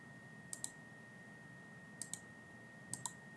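Computer mouse double clicks while setting up a Schneider Magelis HMI screen, three sharp paired clicks spaced apart, close and crisp over a faint steady electrical hum.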